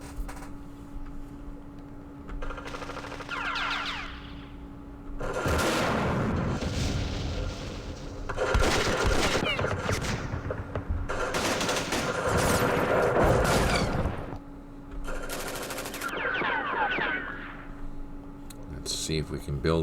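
Rifle and machine-gun fire crackle in several sustained bursts of shooting and explosions from the Vietnam War strategy game Campaign Series Vietnam, set in the Dien Bien Phu battle, with a steady hum beneath and short quieter gaps between volleys.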